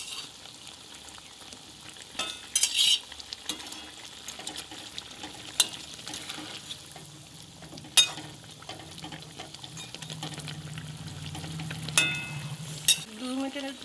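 Bele fish frying in a pan with brinjal and nuts, a close steady sizzle broken by several stirring scrapes and clinks of a spatula on the pan.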